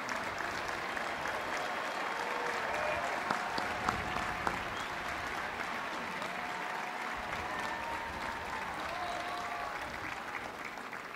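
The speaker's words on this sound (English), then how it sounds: "Please join me in giving these extraordinary teachers a round of applause." Sustained applause from a large crowd at a university commencement ceremony, steady and dense for the whole stretch, heard at a moderate distance without talking over it.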